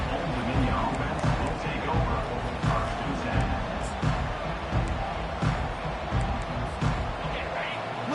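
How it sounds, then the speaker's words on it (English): Stadium crowd at a college football game, Old Dominion versus NC State, a dense, steady roar of many voices with shouts and cheers rising throughout, heard under a commentator's voice. "Listen to the crowd energy here in the early going."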